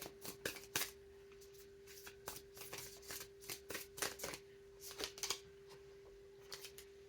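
Tarot cards shuffled in irregular bursts of crisp riffling and flicking, close and clear, over a steady faint hum, with no voices.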